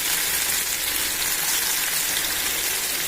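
Vaala fish frying in hot oil in a pan gives a steady, loud, hissing sizzle that runs unbroken from start to finish with no talking.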